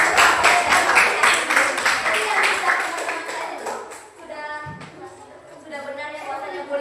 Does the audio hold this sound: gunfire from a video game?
no